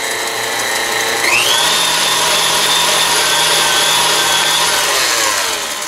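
A stand mixer whirs steadily as it beats sunflower butter cookie dough, a loud close motor drone whose pitch rises as it speeds up, then holds at a constant high whine.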